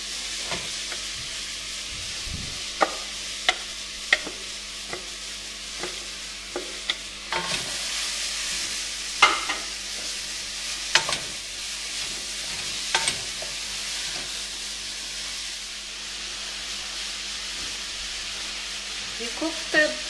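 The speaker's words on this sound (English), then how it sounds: "You cook the mushroom in butter and black pepper for about 3 to 4 minutes until the whole mixture starts to change color." Mushrooms, onion and crushed garlic fry in butter with black pepper, a soft continuous sizzle broken by repeated clicking stirs and scrapes of a utensil in the pan.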